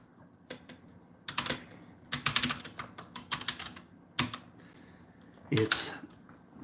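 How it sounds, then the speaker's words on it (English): Typing on a computer keyboard during a Christmas live stream: quiet, close bursts of clattering keystrokes come in irregular clusters with short pauses between them. "I'll type it in one more time."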